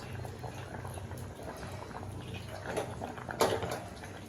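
Mochai (field bean) curry bubbling in a pot, a steady low simmering burble throughout with a few louder pops and splutters near the end, close by and moderately quiet.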